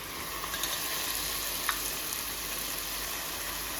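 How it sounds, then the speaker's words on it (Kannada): Ginger garlic paste frying in an oil-filled pan, giving a steady close sizzle with soft crackle and one brief sharper pop, heard alone with no voices. "ಇವಾಗ ಇದಕ್ಕೆ ನಾನು ಶುಂಠಿ ಬೆಳ್ಳುಳ್ಳಿ ಪೇಸ್ಟ್ ಹಾಕೋತಾ ಇದ್ದೀನಿ."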